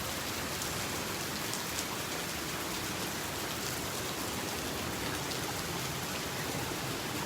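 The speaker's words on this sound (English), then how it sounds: "I'm just stuck in a little trough of rain here." Steady rain pours down continuously on a beach, a dense, even hiss of drops hitting surfaces with no pauses or voices.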